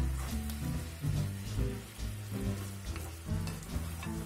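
Chicken pieces and softening Japanese curry blocks sizzle steadily in a pan, with the crackle of frying close and continuous and occasional stirring scrapes as they are turned.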